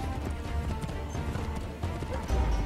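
Horse galloping in the video game Assassin's Creed 3, a steady rapid clip-clop of hooves with a brief whinny, loud and continuous under game ambience.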